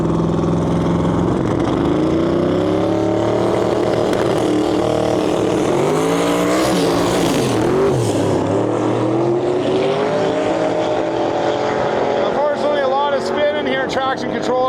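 Race cars roar along the track at Miles of Mayhem on a drag-racing day after rain, with loud continuous engine noise, rising and falling revs, and cars passing close by, while a voice talks over it.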